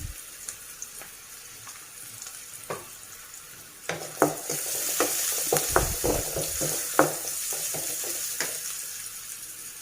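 Cabbage dish tempering sizzles in hot oil with hing added over a medium flame, a soft crackle at first, then louder frying with scattered scraping and clinking stirring strokes.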